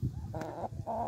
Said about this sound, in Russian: Куры породы Брама